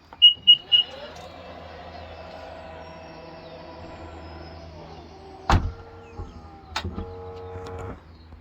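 A 2022 Nissan Qashqai's power tailgate gives a few short beeps, then a long steady motor whine as it lowers, ending in two sharp latching thuds, close by with no talk.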